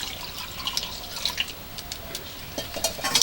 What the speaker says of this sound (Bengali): এবার পরিমাণ মতো জল দিয়ে দিচ্ছি, বেশি করে জল দিচ্ছি যাতে মাংসটা আর আলুটা ভালোভাবে সেদ্ধ হয়।